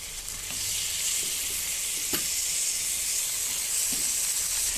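Mutton nalli bone pieces sautéing in a pan with onion and masala, a steady soft sizzle with occasional clicks of a spoon stirring, no talking.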